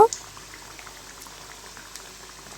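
Snacks made of wheat flour and potato deep-frying in hot oil while being turned: faint, steady bubbling and fine crackle, with a brief louder splash at the start.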